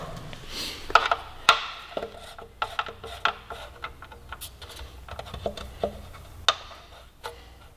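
Light, irregular mechanical clicks and ratcheting ticks as a wrench tightens bolts on a Lightech carbon fiber front fender of a 2018 Suzuki GSX-R1000 sportbike. Quiet close-up workshop sounds with sparse sharp taps.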